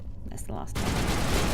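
Gunfire in the video game Mass Effect, during side quests: after a quieter stretch of game sounds, a sustained loud burst of rapid shots erupts and continues through the rest of the moment.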